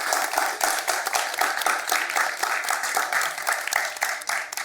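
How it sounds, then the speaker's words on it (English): An audience at an expo gives a steady round of applause, dense overlapping claps sustained for several seconds with no speech over it. "So can we all give a round of applause to Vaporware?"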